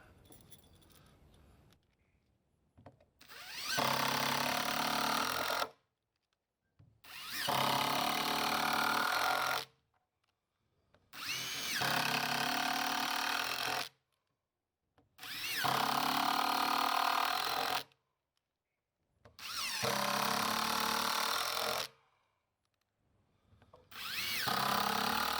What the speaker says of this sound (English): throw a couple more screws in here real quick